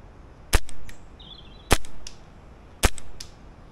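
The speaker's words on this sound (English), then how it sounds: "A few close range shots to start." Novritsch SSQ22 airsoft rifle fires three sharp, close shots spaced about a second apart, each a crisp snap followed by a brief rattling decay, with quiet pauses between.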